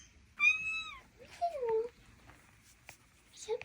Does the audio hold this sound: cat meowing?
yes